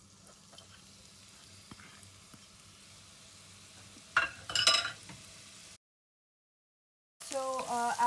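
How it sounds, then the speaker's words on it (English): Onions sizzle as they go into hot oil in a pot: a loud, crackling burst of frying over a faint background, a brief silence, then the sizzling returns strongly. "we now add our onions, and we're going to saute them for a little bit"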